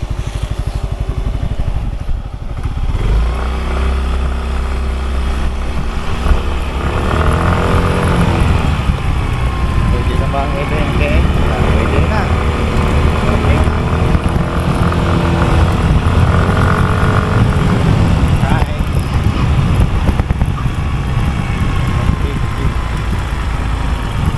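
A Yamaha Mio i 125 motor scooter engine hums and revs steadily for a long stretch on a test ride, its pitch rising and falling as it speeds up and slows, close and loud.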